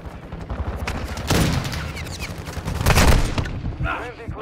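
Rapid bursts of gunfire crackle in a multiplayer shooter video game, several overlapping volleys and machine-gun rattles, loud and close, with a brief voice underneath.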